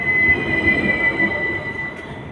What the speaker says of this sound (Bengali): আমাদের ট্রাম এসে পড়েছে।